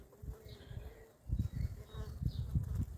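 Honey bees buzz steadily and close by around an open frame in a hive split that is raising its own new queen, a dense droning hum with no voices.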